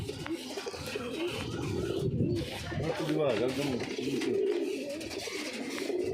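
Soft, repeated pigeon coos blend with background chatter and outdoor noise, a low throaty murmur that keeps rolling under the voices.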